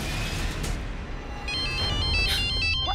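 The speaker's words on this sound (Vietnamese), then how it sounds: "nghe điện thoại nhanh đi em" A telephone ringtone plays as a repeating electronic tone pattern, moderately loud over a dense, noisy background of music and ambient sound from a dubbed TV drama scene.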